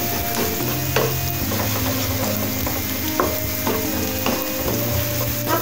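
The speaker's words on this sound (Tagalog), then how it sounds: "antayin na po natin ito na mag-caramelize or the brown color" Ingredients sizzle in a pan while being sautéed for rellenong bangus, a close, steady frying hiss broken by repeated scraping knocks of a utensil stirring against the pan.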